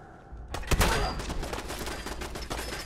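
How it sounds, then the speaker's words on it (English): Automatic turret fire in the Fallout 4 video game: a sudden burst of rapid, loud gunshots that settles into sustained crackling fire over a continuous low rumble, with a voice briefly reacting. "Oh, that's a turret."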